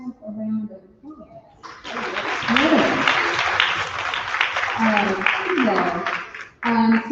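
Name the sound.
audience applause at a rally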